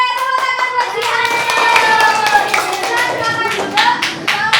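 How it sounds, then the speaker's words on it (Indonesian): A primary school class of children claps and applauds together during an Islamic religious education lesson, a dense, loud burst of hand claps that runs for several seconds, with a few voices mixed in. "Weh, tepuk tangan buat Jihan."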